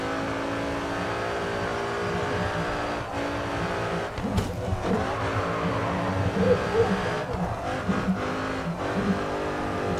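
A car engine revs in Grid 2, a steady high harmonic drone with gear-change dips and fluctuating throttle, while someone talks faintly underneath at times.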